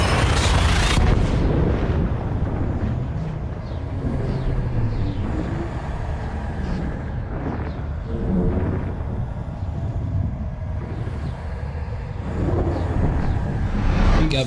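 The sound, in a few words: frame shift drive charging in Elite Dangerous video game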